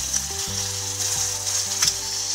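A lemon and turmeric mixture hitting hot fried tempering of cumin, chana dal, urad dal and chillies for lemon rice gives a steady, close sizzle under background music.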